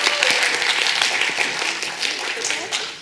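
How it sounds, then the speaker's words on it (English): An audience claps enthusiastically to welcome a panel at a community event on treatment access in Black and Asian communities. The clapping is close and dense, with some voices mixed in, and lasts about three seconds. "should we just give them a huge, huge round of applause and just make them really welcome?"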